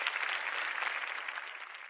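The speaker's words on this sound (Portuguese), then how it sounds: "Palmas, vamos dar as palmas." A soft, steady wash of clapping from a small group, even and continuous throughout, fairly quiet and without talk.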